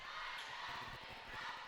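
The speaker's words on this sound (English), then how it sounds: "Crowd trying to come to life." A high school basketball crowd in a gym makes a low, diffuse murmur with scattered shouts and faint cheering, a thinned crowd heard at a distance.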